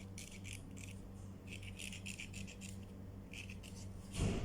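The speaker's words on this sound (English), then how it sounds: "I'll use my blade to demarcate it first" Soft, intermittent scraping strokes of a blade scoring an old cardboard box, several short passes close by, ending with a louder thump.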